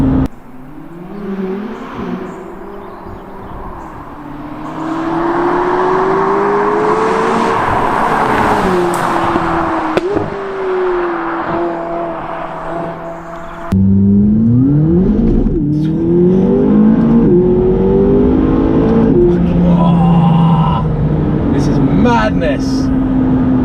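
A McLaren 570GT sports car accelerates hard, its engine note climbing in loud, rising sweeps that fall back and climb again while the car pulls away, heard close from inside the cabin.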